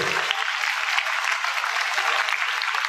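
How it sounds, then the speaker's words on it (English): A school audience at a Green Revolution Day celebration claps in steady, dense, loud applause that runs unbroken for a few seconds. "Let's give a very big thundering applause to this wonderful being who is amongst us."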